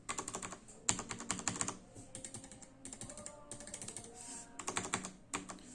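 Fast typing on a Keychron K3 low-profile mechanical keyboard, close and fairly quiet: bursts of crisp clicky keystrokes in quick runs, broken by short pauses, with no voices.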